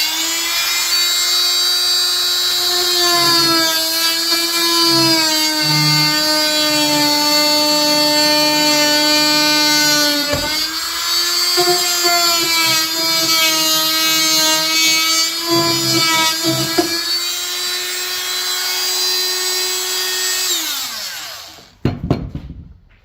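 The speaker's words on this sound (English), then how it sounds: "I'm going to have to cut one of these with just a little multi-tool." A small oscillating multi-tool whines steadily as it cuts through material, its pitch dipping briefly under load before the motor winds down and stops at the end.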